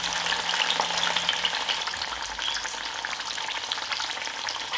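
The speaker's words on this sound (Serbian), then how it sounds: "I pržit ću ga ovako sa svih strana da dobije lepu koricu." Meat fries in hot oil, searing on all sides to form a crust, giving a continuous close crackling sizzle with faint stirring ticks and no voices.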